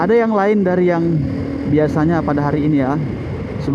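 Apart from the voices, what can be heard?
No everyday noise stands out behind the speech.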